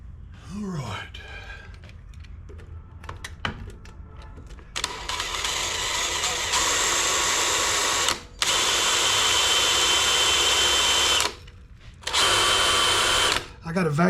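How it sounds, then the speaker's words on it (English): A power drill running a drill bit dulled from drilling during repair work on an Ariens 911504 zero-turn 22-inch walk-behind mower that won't start. Loud whirring bursts come in long stretches with brief pauses, after some handling noise and a groan at the start. "Let me get another drill bit. I think this one's done dulled itself."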